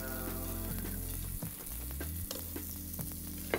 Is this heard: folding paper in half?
no